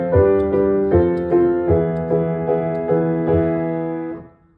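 Piano accompaniment plays a repeating chord pattern with two pulses per measure, a struck chord followed by a lighter off-beat hit, close and clear, fading out at the end.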